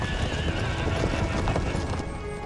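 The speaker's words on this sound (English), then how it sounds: "comes the 19th Regiment of Horse. Charging uphill." Cavalry horses charging uphill in the Empire Total War game, a dense, steady rumble of galloping hooves with whinnies mixed in, loud and continuous.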